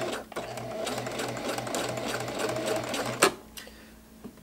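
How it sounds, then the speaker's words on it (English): A sewing machine runs steadily, stitching straight seams on a pants pocket, its even mechanical hum filling the scene up close before a sharp clack and a stop near the end. "I've done a couple of straight stitches."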